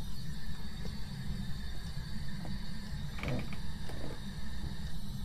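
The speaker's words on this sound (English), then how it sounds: "I think I just heard a door open here" A door creaks in the ghost-hunting game Phasmophobia: a short cluster of faint creaking, ratcheting sounds rises midway over a constant low ambient drone, with no talking.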